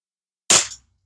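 One sharp, clean crack from a Beeman P17 air pistol fired at a target 20 yards away, close and loud, dying off quickly into silence.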